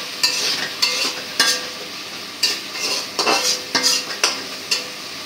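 Potatoes and other vegetables, including Malabar spinach, are sautéed in a pan in village-style Bengali cooking, with regular scraping stirs over a soft frying sizzle, close by and without talk.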